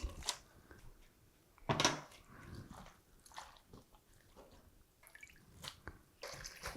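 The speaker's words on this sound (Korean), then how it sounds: "미역이 이제 알맞게 불려졌는데요. 한 두세 번 정도 깨끗이 헹궈서" Soaked miyeok seaweed is rinsed in water with sloshing, dripping and wet squelches in scattered bursts, close and fairly quiet, with no speech.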